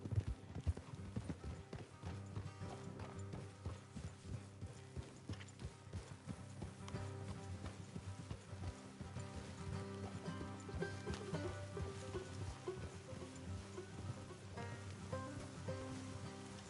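Horses trot along a road in Red Dead Redemption 2, a steady clip-clop of hooves under a continuous musical and ambient bed, moderately loud throughout.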